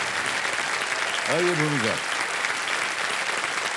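Studio audience applause for a contestant on the quiz show Kaun Banega Crorepati, steady clapping throughout with a host's voice speaking briefly over it.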